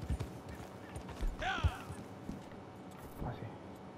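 A horse in the video game Red Dead Online steps with clip-clop hooves and lets out a short whinny in the middle, fairly faint and close, with a softer snort-like call near the end.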